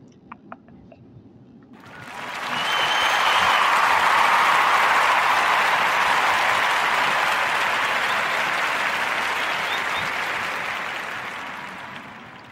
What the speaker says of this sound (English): So clap it up for Erica Lachey